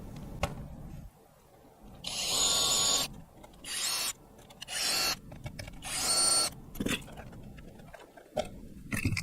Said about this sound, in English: there are totally 4 screws to fix it in place. So let's remove it.